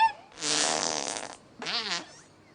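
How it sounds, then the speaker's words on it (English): A whale makes two drawn-out fart-like noises, a long blast and then a shorter wavering one, close and clear with quiet in between. "That's just a whale making farting noises."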